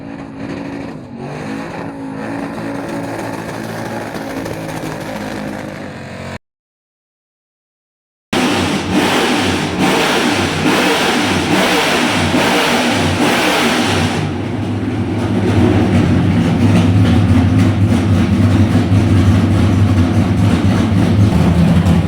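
A NASCAR race car engine on a dyno roars loud and close, revving hard, cutting out briefly, then returning with a sustained high-load howl that builds and holds to the end.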